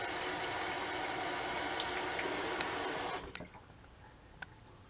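Running tap water rinses a Supply SE safety razor, a steady broadband splash that cuts off abruptly about two-thirds through, leaving a few faint drips and clinks.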